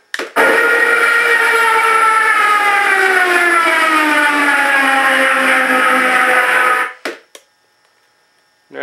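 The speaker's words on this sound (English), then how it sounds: "Dive siren to go with it." A loud, wailing dive siren sound effect from an FMS FW-190 model plane with a Mr. RCSound unit rises and falls in pitch for several seconds, then stops abruptly, followed by a short mechanical rattle.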